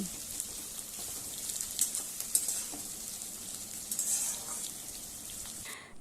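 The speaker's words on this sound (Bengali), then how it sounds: "পেঁয়াজটাকে ভালোভাবে নাড়াচাড়া করে লাল লাল করে ভেজে নিতে হবে মিডিয়াম ফ্লেমে" A big chopped onion fries on a medium flame and is stirred now and then. The sizzle is soft and fairly quiet, with small scraping sounds, and no one talks.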